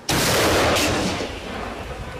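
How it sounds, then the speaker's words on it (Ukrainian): A single loud gunshot bursts sharply, then its blast decays into a rumbling echo. "Кожен день стрільба, постріли, робота. Постріл!"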